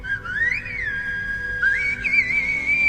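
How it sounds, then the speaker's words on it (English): A tuneful whistle standing in for Groot's language, rising and falling in gliding pitch across two phrases with a short break between them, loud and close with no talking. "It's just whistles?"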